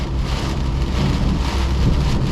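Heavy rain and stormy wind roar steadily around a BMW E46 320i being driven on a flooded road, a dense continuous wash with low rumble and no pauses.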